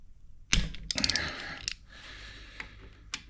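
Wrench cracking loose the oil filter cover bolts on a Royal Enfield Bullet 350, with a sharp metallic clack followed by a burst of ratcheting clicks and scattered tool taps nearby.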